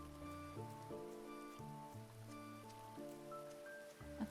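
Rain falls steadily in a cosy farming village game, a soft patter running under gentle melodic background music throughout, with no one talking.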